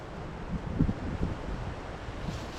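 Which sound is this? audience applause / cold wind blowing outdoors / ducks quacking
cold wind blowing outdoors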